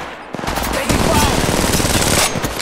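Rapid automatic gunfire rattles loud and close in the mobile shooter Apex Legends Mobile, a dense burst lasting a couple of seconds with a brief gap near the start.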